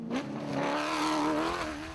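Toyota Hilux rally truck racing hard on the Sugarbelt 400 route in 2013, its engine note climbing and holding loud and close with a rising harmonic whine, heard alone with no voices.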